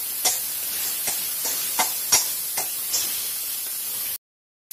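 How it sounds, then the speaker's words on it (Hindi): Finely chopped onion frying in hot oil for Mumbai street-style masala pav, a continuous close sizzling hiss punctuated by regular soft scraping clicks, cutting off abruptly at the end. "तेल गर्म हो गया है, एक बारीक कटा हुआ हम प्याज डालेंगे। इसे गोल्डन ब्राउन होने तक हम इसे भूनेंगे।"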